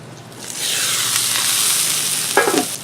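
Meatloaf burgers sizzle steadily on a Blackstone flat-top griddle, a continuous close frying hiss that swells and holds, with a brief scrape or clatter near the end.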